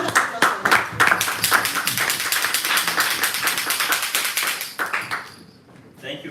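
Audience at a Toastmasters meeting claps in a loud, dense burst of applause that holds steady and then tapers off near the end.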